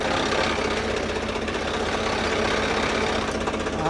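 A Mahindra Arjun NOVO 605 tractor engine runs with a rotavator attached, a loud, close, steady knocking diesel rumble with rattling vibration that continues unbroken throughout.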